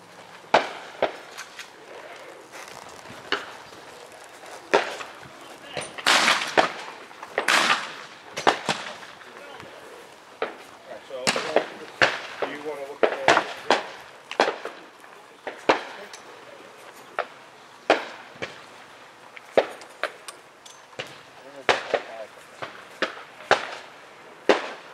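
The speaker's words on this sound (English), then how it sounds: "Shotgun." Shotgun blasts ring out on a cowboy action shooting stage, a series of sharp, loud reports spaced irregularly over nearly half a minute, with quieter clatter and some voices in the background between shots.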